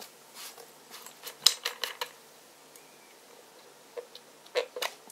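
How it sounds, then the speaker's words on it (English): Small metal nuts being unscrewed by hand from a Blitzwolf BW-LT5 Pro waterproof LED power bank lamp, a quiet run of scattered light clicks and metallic ticks, close and sparse, with no talking. "there's two nuts on here which you unscrew"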